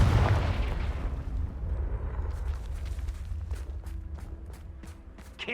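A Confringo blasting spell from Hogwarts Legacy bursts with a loud, deep boom at the start, then a long rumbling tail of crackling debris and low roar that slowly fades, with scattered sharp ticks near the end.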